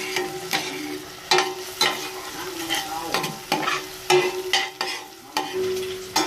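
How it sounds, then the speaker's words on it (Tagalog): Garlic frying in a pan while a spoon or spatula stirs it, with repeated scraping strokes over a steady sizzle, close by and fairly loud, no talking. "Haluin natin para hindi siya masunog."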